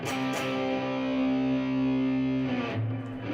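A heavily distorted electric guitar holds a sustained, buzzing note that rings out loudly before a new note starts at the end.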